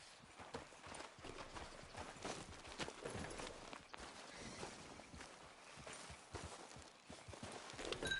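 Horse hooves clip-clop at a walking pace in the Red Dead Redemption 2 video game, a steady near rhythm of footfalls against an outdoor ambient bed.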